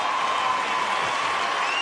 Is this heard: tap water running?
no